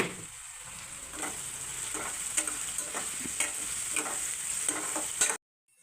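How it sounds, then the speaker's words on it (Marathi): Onions fry and sizzle in a pan while being stirred, cooked for a dry chicken dish served with cumin rice; a steady close hiss runs throughout with repeated scraping stirs, then cuts off abruptly near the end. "आता हा कांदा आहे ना थोडासा आपला असा तळून झाला ना की मग त्याच्यामध्ये आपण टमॅटो घालायचा आहे."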